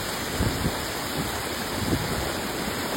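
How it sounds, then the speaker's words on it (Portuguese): Heavy rain and floodwater in Balneário Camboriú, Santa Catarina, Brazil: a dense, continuous wash of rushing water and downpour filling the scene, steady and loud with faint low thumps. "Muito volume de chuva, né?"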